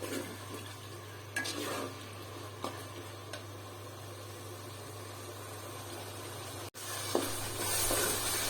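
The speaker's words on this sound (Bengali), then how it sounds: "আর এখন দিয়ে দিলাম আদা রসুন পেস্টটা দিয়ে তেলের সাথে পেস্টের সাথে ভালো মতো কিছুক্ষণ নেড়ে চেড়ে নিব।" Ginger garlic paste gets stirred into oil with bay leaves in a pot for biryani, a faint sizzle under a steady low hum, with occasional soft scrapes and clinks of a spoon.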